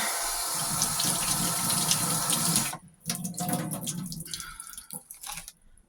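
Cold tap water runs into a sink while mushrooms are washed, a steady splashing stream that then breaks into irregular gurgles and spatters as the flow is interrupted.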